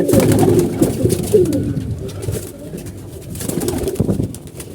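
Pigeons coo in low, throaty, rolling calls close by, several birds overlapping in a steady murmur.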